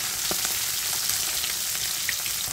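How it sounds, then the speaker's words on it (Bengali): Tengra fish frying lightly in a pan, a continuous close sizzle of hot oil broken by scattered small crackles and spits. "হালকা ভেজে নিয়ে তুলে নেব"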